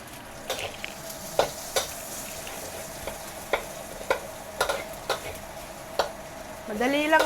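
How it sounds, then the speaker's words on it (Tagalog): Garlic and onion frying in a pan, a steady sizzle broken by repeated sharp clinks of a utensil stirring against the pan, with a faint voice at the very end. "Prito na natin ang ating bawang at sibuyas."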